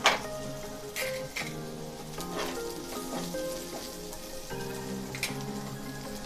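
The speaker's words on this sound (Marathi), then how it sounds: "1 ते 2 मिनिट आपण हे छान परतून घेऊया" Split chillies and curry leaves sauté in hot oil in a pan, giving a steady, close sizzle with a few brief crackles and no voices.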